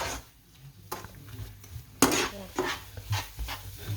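Sugar melting in a pan for kesari is stirred with a spoon, giving soft scraping and clinking near the microphone in a few uneven strokes, with a louder clatter about halfway through and a low background hum.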